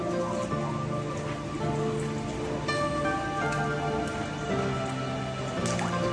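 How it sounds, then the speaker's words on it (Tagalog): Floodwater inside a house, heard as a steady dense patter and splashing of water like heavy rain on a surface, continuous and fairly close with no talk. "Baha nga sa amin."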